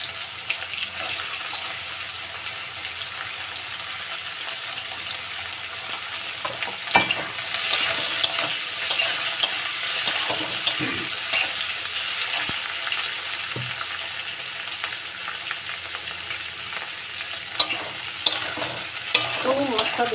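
Bitter gourd frying in hot oil in a kadai while being made for shukto, a long steady sizzle broken by repeated stirring scrapes and clinks and an occasional louder knock, close and with no speech.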